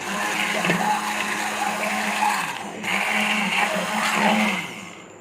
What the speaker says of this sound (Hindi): मैं बीटर की मदद से बीट करूँगी ताकि जो खड़ा खड़ा प्याज और टमाटर रह जाते हैं वो अच्छी तरह से मैश हो जाएं।